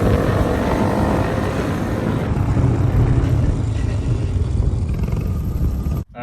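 A stunt motorcycle in second gear with the clutch pulled in, its engine noise loud and steady, then cut off abruptly near the end.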